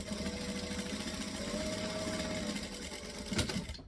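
A sewing machine runs in a steady continuous stitching whir, close and fairly loud, with a brief change near the end as it reverses to backstitch; no talking.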